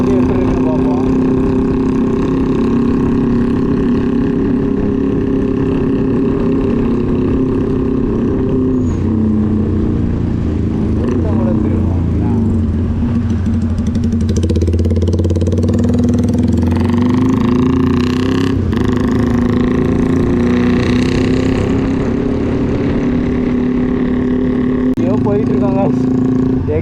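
A modified Yamaha R15 V3 motorcycle engine drones steadily and loudly for a long stretch while riding, with the pitch shifting slightly as the throttle changes. Voices can be heard faintly in the background.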